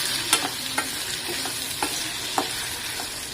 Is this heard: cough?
no